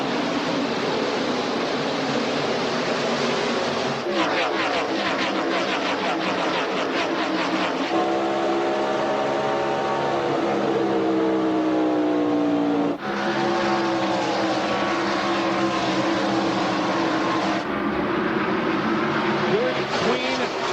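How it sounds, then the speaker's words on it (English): NASCAR Winston Cup stock cars get underway at Dover Downs in 1997, a loud continuous engine roar with shifting pitch as the field passes, with a commentator talking over it throughout. "Rodney Wise from Magnolia, Delaware, handling the starter chores for NASCAR Winston Cup Series racing today, and we're underway here at Dover Downs"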